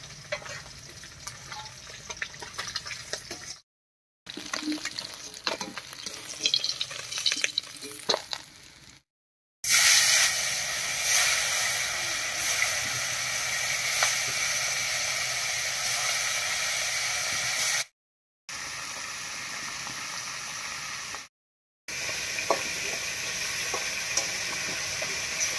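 Koi fish fry in hot oil in a pan, giving a faint, steady crackling sizzle broken by a few brief silent cuts.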